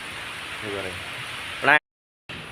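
Heavy rain pours down in Tiruppur as a steady broadband hiss, with a louder surge just before a brief dropout, then the downpour resumes.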